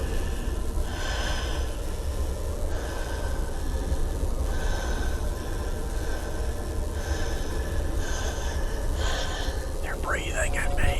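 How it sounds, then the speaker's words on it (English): Heavy, rhythmic breathing over a telephone line in the horror video game Dark Fracture, with repeated hissing inhales and exhales pulsing every second or so against a constant noisy hum. "They're breathing at me."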